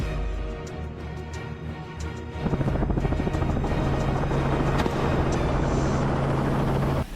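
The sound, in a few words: helicopter rotor blades flying low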